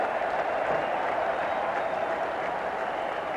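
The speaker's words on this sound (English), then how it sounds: "cheer goes up." Cricket crowd at a 1995 England versus West Indies Test match breaking into sustained applause and cheering, a broad, even roar of clapping lasting the whole stretch, fairly distant and with no commentary over it.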